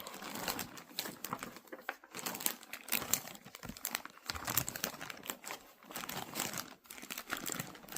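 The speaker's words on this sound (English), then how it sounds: "Sorry for the rustling, guys." Close, crinkly rustling of a plastic bag in irregular bursts, with brief pauses between handfuls of crackling.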